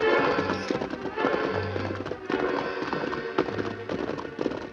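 Horses' hooves clip-clop in a quick, uneven rhythm as riders set off in a radio drama, loud and close, with a brief whinny-like burst and no talk over it.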